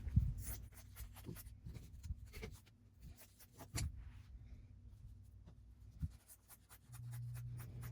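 Fabric yardage is rough cut for a hexagon log cabin quilt block, with scissors or a cutter rasping through cloth in short bursts and light handling rustles, close and fairly quiet.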